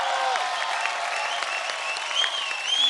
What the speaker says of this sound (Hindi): जोरदार तालियों के साथ स्वागत कीजिए the jubilee girl, the very elegant Asha Parekh ji.